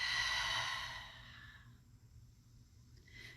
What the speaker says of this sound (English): exhale, open up the mouth and breathe out.